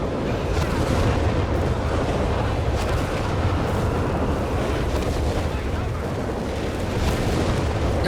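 Continuous dense rumble of grenade blasts and battlefield fire in Company of Heroes 3, a Wehrmacht versus US Forces match, loud and sustained throughout, with a commentator talking over the action.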